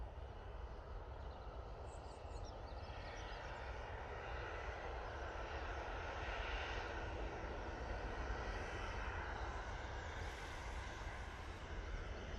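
An airliner departs Manchester Airport for Malaga, a faint, steady jet roar that holds at an even level and swells slightly midway, heard from a distance with no voices.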